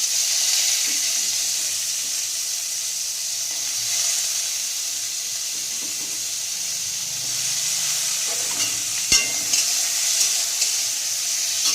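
Potatoes and eggplant fry in hot oil with cumin and dried red chilli, producing a loud, continuous, close hiss of sizzling with a few utensil knocks toward the end; nobody speaks.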